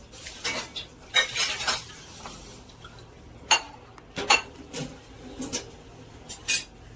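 Metal utensils clink and scrape against a metal pot of sugar syrup in irregular bursts, a spoon stirring with scattered sharp clinks and soft sloshing, no talking.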